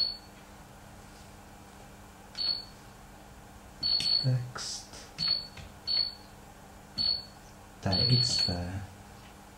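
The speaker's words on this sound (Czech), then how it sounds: "Slyšíme pípání při stisku každé klávesy." An IQ-151 computer keyboard in a text editor gives short, high beeps at each key press, about eight separate chirps spaced irregularly, with someone speaking quietly in between.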